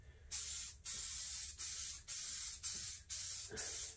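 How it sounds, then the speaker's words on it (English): An aerosol spray can applies a protective finish coat to a wooden flag box in about seven short, evenly spaced hissing bursts, close and clear with brief pauses between them. "you just spray this on just like spray paint"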